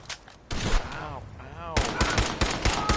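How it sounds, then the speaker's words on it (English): Shotgun blasts boom in the video game Fallout 4, loud and close in quick bursts. A brief vocal sound rises between the volleys before dense rapid firing resumes. "Shotguns are so good in this game."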